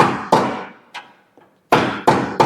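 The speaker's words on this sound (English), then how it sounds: "use a long pry bar here and just kind of hammer it" A long steel pry bar is hammered against the idler arm pocket of a Chevy GMC 2500 Duramax truck's front end, giving sharp, loud metallic strikes in an uneven rhythm, with pauses and a couple of lighter taps between.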